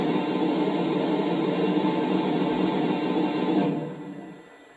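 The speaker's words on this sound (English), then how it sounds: "Here is the steam blowdown sound." A Lionel Legacy Southern Pacific AC-9 2-8-8-4 model locomotive lets out a steam blowdown, a loud, steady broadband hiss that holds for several seconds before cutting off and fading into quiet.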